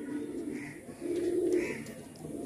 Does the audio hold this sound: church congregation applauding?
no